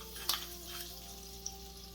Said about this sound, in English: we're going to add the butter to the fry pan that we have here